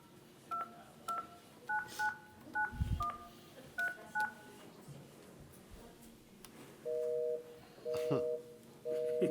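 Telephone keypad tones during a commission meeting, a string of short dual-tone beeps followed by a few longer held tones, clear above faint room noise.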